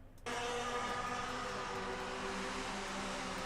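A pack of race cars in Assetto Corsa surges in abruptly after a brief quiet moment, then holds as a dense, continuous roar of overlapping engines and tyre noise.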